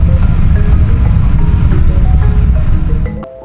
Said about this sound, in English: That's about as loud as the hum from your air conditioner.